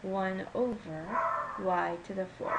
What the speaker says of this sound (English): I'm really sorry about my dog barking